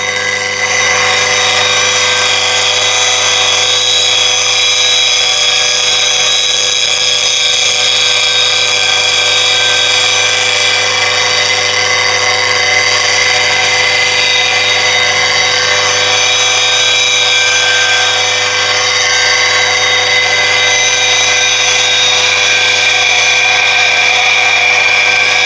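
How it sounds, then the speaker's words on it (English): A power tool sands the inside of a flute, with folded sandpaper pressed into the groove; a steady, loud, unbroken whirring grind runs throughout with no pauses and no talking. "So just by bringing the sandpaper inside the flute like this, fold it, I'll clean up the flute on the inside"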